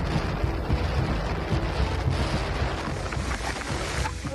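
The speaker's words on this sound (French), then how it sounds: "Le vent est absolument infernal." Strong, buffeting wind roars across the microphone at a coastal cycling race start in the Cape, a continuous loud rumble with gusty surges and no speech.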